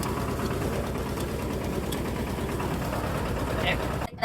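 A low tractor engine chugs steadily at idle with a rhythmic knocking throb, continuous and close, cutting off abruptly at the end.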